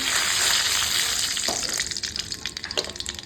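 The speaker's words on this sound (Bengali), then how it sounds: "তেলের ওপর দিয়ে দিলাম তেজপাতা শুকনো লঙ্কা আর পাঁচফোড়ন" Bay leaf, dried red chilli and panch phoron spices sizzling in hot oil, a dense crackling hiss at first that thins into scattered sharp pops and spits, close and fairly quiet, with no talking.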